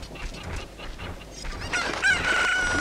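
Chickens cluck and squawk in Kakariko Village in the video game Zelda: Ocarina of Time, busy fowl calls that build in loudness, with a brief electronic game tone near the end.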